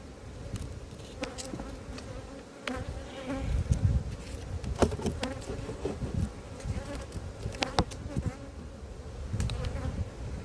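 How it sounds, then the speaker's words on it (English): Honey bees swarm thickly inside a crowded apiary beehive, producing a dense, continuous buzzing close up throughout, with scattered louder bursts and no talking. "There are masses of bees in here."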